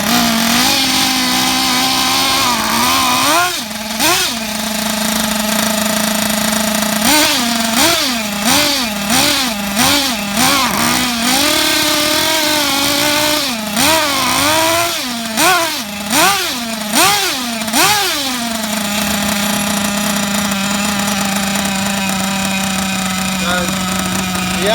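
A Kyosho MP9 nitro RC buggy engine idles during break-in, a steady buzzing drone broken by repeated short blips of revving that rise and fall in quick clusters, loud and close throughout.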